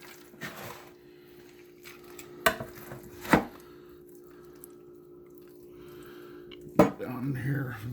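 Knife cutting fat off raw meat on a board, heard as a few sharp close chops and scraping taps spread over several seconds, with quiet background and brief low handling sounds.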